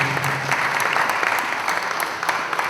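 A crowd applauds in welcome at an afternoon community gathering, a steady dense clapping that fills the whole short stretch, loud and close, with no voice on top.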